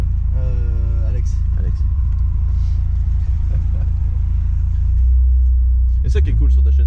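Exhaust of a Renault Clio RS droning from inside the cabin, which has no rear seat or sound deadening, a steady loud low rumble with a brief rev near the end while people talk over it.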